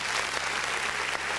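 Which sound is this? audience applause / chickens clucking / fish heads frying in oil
audience applause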